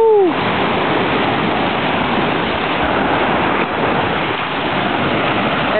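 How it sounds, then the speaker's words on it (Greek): Sea waves surge onto and pull back from the rocky coast of Milos island in a steady, loud, close wash of surf that carries on without a break and with no voices. "Πώς υποχωρεί το νερό και πώς ανεβαίνει."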